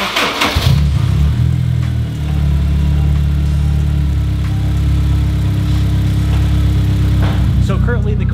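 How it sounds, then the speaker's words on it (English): A Honda S2000 sports car cranks and fires up close, its engine briefly revving before settling into a steady, loud idle that runs to the end. "I'll go ahead and start the car so you guys can hear it"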